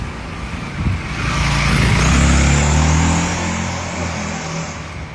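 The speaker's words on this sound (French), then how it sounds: "En plus, il y a une voiture qui passe." A car passes by outside, its engine swelling to a loud, close roar at mid-clip and then fading away, with no voices heard over it.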